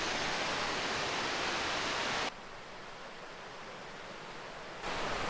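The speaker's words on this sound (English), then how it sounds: "So we're at Roughlock Falls." Roughlock Falls in Spearfish Canyon gives a loud, steady broadband rush of falling water. The level drops abruptly partway through, then jumps back up near the end.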